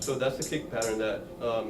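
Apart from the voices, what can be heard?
None of the usual background noises is heard.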